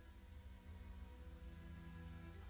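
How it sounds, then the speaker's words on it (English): Steady, dense rain hiss from The Sims 4 video game, a continuous wash of soft noise with no breaks, fairly quiet and heard alone. "I know it's raining."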